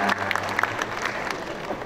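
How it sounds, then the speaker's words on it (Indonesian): A crowd at a surgeons' association gathering bursts into brief applause, a close, busy patter of many hands clapping throughout. "Tepuk tangan dong, Bu."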